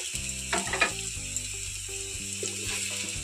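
Chow mein noodles and vegetables sizzle steadily in a hot pan while being tossed and stirred, with scraping clinks over a constant frying hiss and soft background music.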